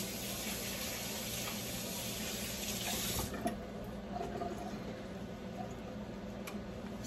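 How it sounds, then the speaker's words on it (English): Water runs steadily from a tap as hands are rinsed under it in a home kitchen, a continuous close hiss of flowing water that softens and shifts partway through as the stream is disturbed. "let me rinse my hands"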